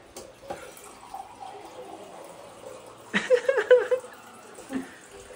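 After a quiet stretch, water splashes and gurgles into a glass in a short burst lasting under a second, then stops.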